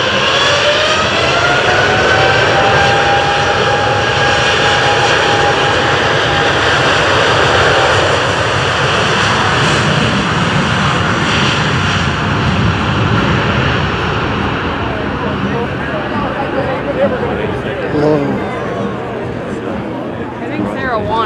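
A Cathay Pacific Boeing 747-8F freighter departs at the EAA AirVenture Oshkosh airshow, its jet engines building from minimum takeoff thrust into a loud, continuous roar with a rising whine that slowly fades as the aircraft moves away, with people talking over it.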